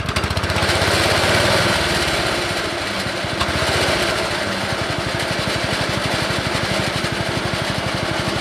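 A walk-behind lawn mower engine, choked and with a little throttle, runs loud and close and settles into a steady, fast chugging putter, mowing wet grass after rain. There is no talking.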